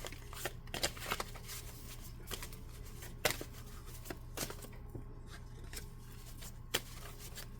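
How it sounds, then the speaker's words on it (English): A deck of tarot-style cards is shuffled by hand up close, giving a series of quiet, irregular riffling snaps and soft sliding rustles over a faint steady background hum. "I'm going to go ahead and shuffle these on camera"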